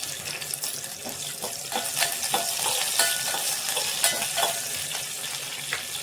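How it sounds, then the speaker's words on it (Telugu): Chilies and curry leaves fry in hot oil in a home kitchen, a steady close crackling sizzle with scattered pops and a few stirring clicks, running continuously without any voices. "మిర్చి అయితే మంచిగా వేగింది కరివేపాకు"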